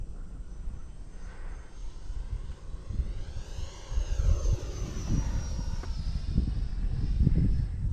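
A Futura 64mm electric ducted-fan RC model jet in flight as power is added: a steady airy whine that swells and rises in pitch, with a faint sweeping tone as the jet passes.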